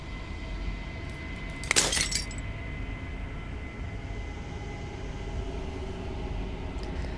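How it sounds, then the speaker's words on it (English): Glass shattering in Slay the Princess: a single bright crash with scattering shards near 2 seconds, rising over a steady low rumbling ambience that continues alone afterward. "As the final fragment of glass shatters"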